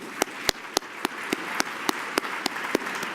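Applause at an awards gala for HBCU supporters: a fairly quiet audience clapping together, with about ten sharp, evenly spaced claps standing out close by over the softer crowd.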